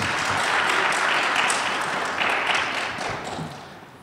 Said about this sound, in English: Give a hand of applause to our panelists